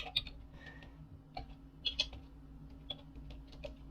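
Fast, light keystrokes on a computer keyboard, entering a Linux install command, with irregular clicks and brief pauses heard close up over a quiet room.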